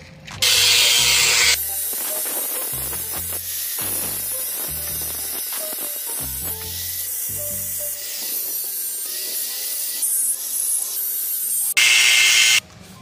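Power tool cutting a channel into a wall for a plumbing pipe, loud grinding bursts that start and stop repeatedly, with scraping and rattling mechanical noise between the cuts.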